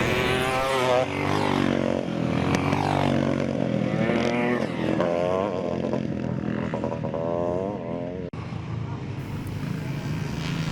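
Vintage CZ motocross bikes race at Thornhill, Scotland, their engines droning and shifting pitch continuously behind steady commentary from a public-address announcer.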